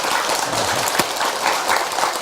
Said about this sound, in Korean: 박수 한번 더 보내줍시다